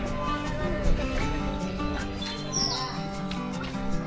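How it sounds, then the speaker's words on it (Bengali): Birds chirp and sing near a bird park by the Rabdentse ruins, a lively mix of overlapping calls with one clear whistled note standing out, under faint outdoor murmur. "দারুণ পাখি ডাকছে"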